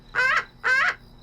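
A bird gives two harsh, seagull-like squawks in quick succession, loud and close, with a short pause between them and no talk.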